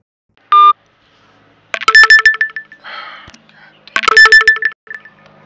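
Telephone call tones: a short beep followed by two bursts of electronic ringing tones, close and clear, with a brief muffled rustle between them.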